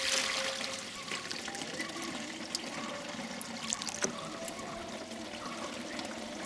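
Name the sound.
water being poured into a GreenStalk planter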